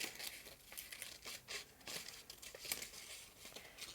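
Paper images being roughly cut out by hand for a garden-themed collage page, a steady run of close, crisp snipping and crinkling rustles with no talk.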